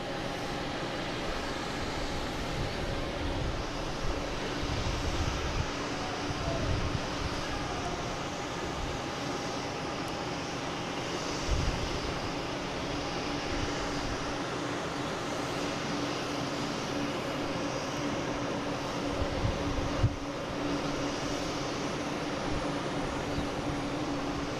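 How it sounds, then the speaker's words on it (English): American Airlines Embraer E175 landing at Boston Logan from Buffalo, a sustained broadband jet rumble with a faint whine, steady throughout and heard without talk. "Next coming in is American Airlines and E175 from Buffalo."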